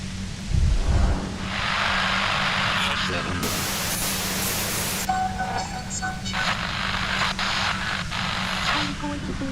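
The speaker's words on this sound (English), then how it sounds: "The violent white noise becomes even more overwhelming closer to the compressor." Overwhelming white noise of a compressor in the game Disco Elysium, a dense, loud broadband roar that swells and shifts in bands, with a person talking over it near the start.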